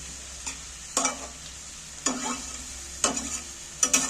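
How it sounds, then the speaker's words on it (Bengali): Yogurt-marinated chicken frying in oil is stirred in several distinct sweeps, each giving a short scraping burst over a steady soft sizzle, close and moderately loud with no talking. "আর এবারে তেলের মধ্যে আমি একটু নাড়াচাড়া করে নিচ্ছি"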